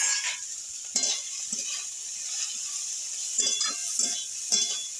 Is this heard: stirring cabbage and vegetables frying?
yes